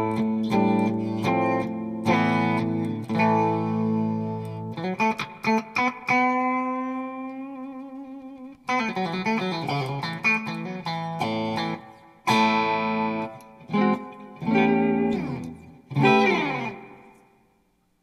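Electric guitar on a Firefly FFBCTY MadCat-style Tele, 2024 version, played through a valve amp with light reverb on the bridge pickup, rings out in strummed chords and sustained single notes with brief pauses, loud and close with no talking.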